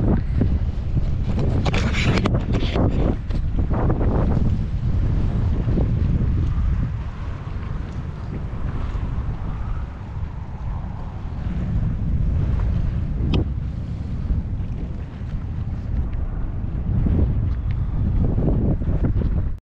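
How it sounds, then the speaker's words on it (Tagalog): Strong wind buffets the microphone in loud, continuous rumbling gusts during a test drive of a Jetour X70 Plus, with a broad rushing roar and no voices. "Mahangin lang."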